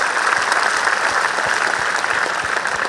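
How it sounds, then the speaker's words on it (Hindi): Loud, sustained applause from an audience at a coaching institute event, dense clapping filling the whole stretch without a break. "एक बार जोरदार ताली मेरी टीम के लिए।"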